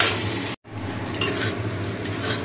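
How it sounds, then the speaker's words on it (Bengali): Carrots lightly frying in a pan, a loud, close sizzle with stirring scrapes that cuts out for an instant near the start, then resumes steadily with soft clinks of the utensil. "গাজরটা হালকা করে ভেজে নিচ্ছি আগে।"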